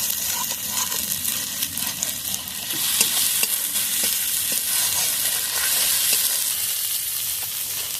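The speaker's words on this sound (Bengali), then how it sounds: "একসাথে ভালোভাবে আদা রসুন টমেটো ভালোভাবে কষিয়ে নেব" Ginger, garlic and tomato frying in hot oil for a soybean and egg curry, a steady close sizzle with stirring scrapes and clinks throughout.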